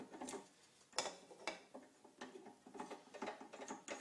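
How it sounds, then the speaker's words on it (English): A drill bit is swapped out of a drill chuck while working on a rudder rib, with a series of small, close mechanical clicks and ratcheting ticks in an irregular rhythm. "So I'm going to replace my bit."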